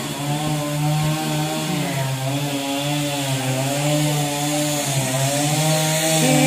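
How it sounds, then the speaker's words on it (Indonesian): A chainsaw cuts trees near a hotel swimming pool in Bali, a steady close whining drone that wavers slightly in pitch and runs continuously with no talk. "Itu pohon-pohon sudah ada yang lagi dipotong."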